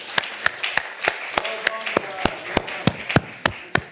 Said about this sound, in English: A round of applause to her specialist.